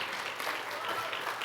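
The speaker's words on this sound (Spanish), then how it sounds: "Si le va a dar aplauso al Señor," A church congregation gives applause during a sermon, a continuous sheet of clapping at moderate level that runs the full moment without speech over it.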